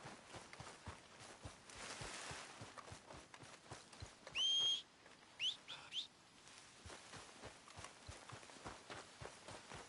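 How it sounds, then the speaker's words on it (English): A rider gives a sharp, high whistle to call a horse, once long and then a shorter repeat, set against soft rhythmic hoof clops and faint ambient outdoor noise in a Western open-world game. "Oh, can I whistle for my horse?"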